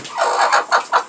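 A broody hen clucks close by in a short, rhythmic series of throaty calls, heard alone.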